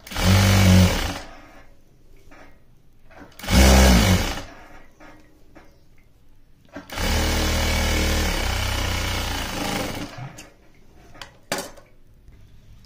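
A sewing machine stitches fabric pieces together, running in three loud bursts: two short runs and then a longer steady run of about three seconds, with quiet gaps between them.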